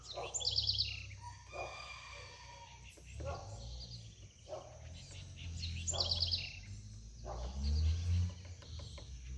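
A woodpecker gives short bursts of high, sharp chirping calls repeated several times, with quieter background sounds and voices in between.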